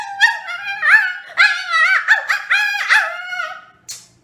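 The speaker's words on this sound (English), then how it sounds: "He started to whimper and whine." A dog whimpering and whining as a story sound effect: a run of high, wavering whines in quick succession, close and clear with no other sound, tapering to a soft breath at the end.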